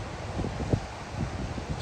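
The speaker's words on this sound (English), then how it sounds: "There's a little wind. It's a little windy." Wind blowing across an off-season Jersey Shore beach at Island Beach State Park, steady rumbling gusts buffeting the microphone with a few stronger bursts, no voices.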